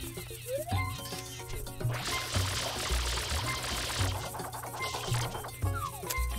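Water spraying from the water pack in Super Mario Sunshine, a steady hissing gush that runs through the middle of the clip over game music and effects.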